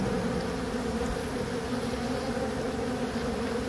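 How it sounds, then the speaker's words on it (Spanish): A dense, continuous buzz of many honeybees swarming close around their hive, steady and loud with no pauses. "Miren nada más qué belleza de familia las abejas, cuidándose, protegiéndose y queriéndose entre todas, ayudándose."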